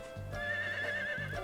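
Horse neighing in the Harvest Moon: The Winds of Anthos farming game, a white horse raised for an equestrian race. A single clear, loud whinny rises and wavers over a low rumble, with a short breath at the end and no voices.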